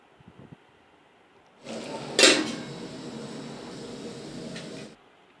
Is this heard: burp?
no